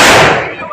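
A Diwali firecracker bursts in a single loud, close crack that decays quickly over under a second.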